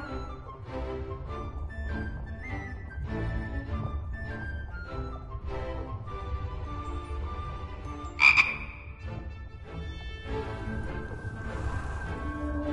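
Steady frog croaking from The Book of Unwritten Tales 2, heard after a magic spell: a rhythmic chorus of croaks that continues throughout, broken once by a brief bright sparkling hit near the middle.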